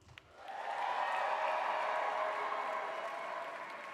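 Gala audience cheering and applauding together, a broad sustained roar of clapping and voices that swells within half a second and holds steady and loud to the end.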